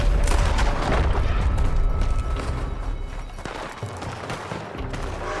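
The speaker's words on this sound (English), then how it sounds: "Is that Micah shooting?" Gunfire from Micah in Red Dead Redemption 2, a loud close barrage of rapid overlapping shots and booms that thins slightly toward the end.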